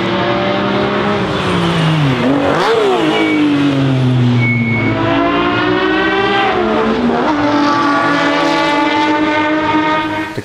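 A Ferrari 250 GTO Breadvan with a 3-liter V12 roars loudly and steadily, its pitch climbing and dipping through rapid gear changes and throttle blips, with no voices over it.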